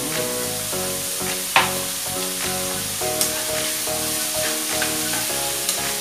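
Pancit canton noodles sizzle steadily in a hot frying pan as they are stirred, with a few sharp clinks of the utensil against the pan, close up and without voices.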